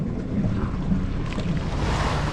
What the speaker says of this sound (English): We're still motor sailing to White Cove, Catalina Island.